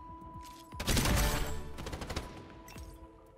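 A burst of rapid video-game gunfire from guards and a stationary-target shooting section fires in a loud, dense volley, followed by a few scattered shots and a fading tail.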